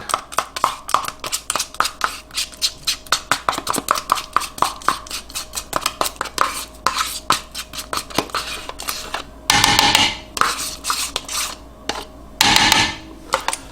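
Spoon scraping and clacking against a dish while sour cream is stirred into a ground beef casserole mixture, a fast run of close, sharp taps and scrapes with two louder rubbing bursts near the end.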